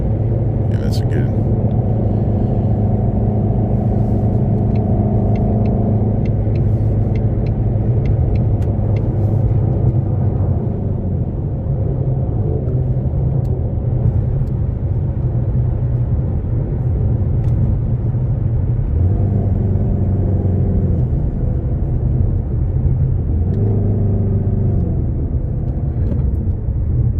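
Ford Mustang GT350 cruising at about 70 mph in fifth gear, engine and road noise forming a loud, steady low drone throughout, with quiet voices talking underneath.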